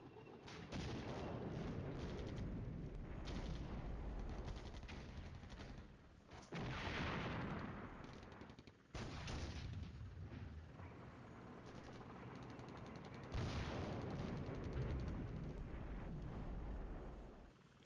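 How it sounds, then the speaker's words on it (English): Artillery shelling in a Cold War strategy game, booming explosions rolling in several heavy waves, each a dense low rumble that swells and fades, with gaps between barrages and no voices. "Now they're shelling this position"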